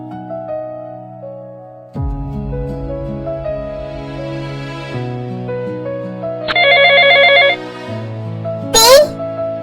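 A melodic phone ringtone plays loudly, stepping through a sequence of tones, with a brief buzzy trill near the end.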